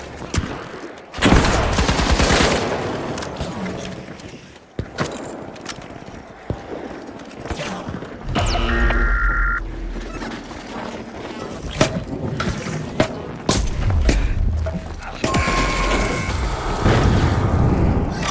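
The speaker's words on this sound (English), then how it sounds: "Throwing a frag!" Combat in the shooter game The Finals, with a frag grenade thrown: dense, loud gunfire and booming blasts in irregular bursts, with chaotic clatter filling the scene.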